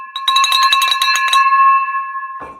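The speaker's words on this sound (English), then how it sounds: "Ring that bell" A bell is rung loudly in a fast burst of strikes, then its bright metallic tone holds and fades before a short scuff at the end.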